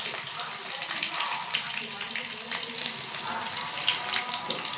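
Crushed garlic, four or five cloves, frying in oil in a kadai, giving a steady, close hiss of sizzling with no pauses and no talk.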